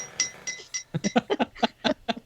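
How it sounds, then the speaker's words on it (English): A spoon clinks against a dish in a quick run of light, bright taps, a few at first and then a faster irregular series, close and fairly quiet, with no speech over it. "It's that clinking of the spoon in the dish that I'm used to hearing."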